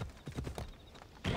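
A horse's hooves clip-clop in the video game Assassin's Creed Odyssey, a steady run of soft, close, rhythmic thuds at a trotting pace, ending in a louder burst of rustling movement.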